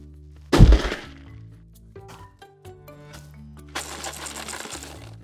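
A small box being shaken rattles with loose contents knocking inside: one sharp clattering jolt first, then lighter intermittent rattles and a longer shaking burst near the end, close and clear with no talking.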